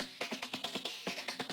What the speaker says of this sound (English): Another drum loop is this one. It's a bit more percussive.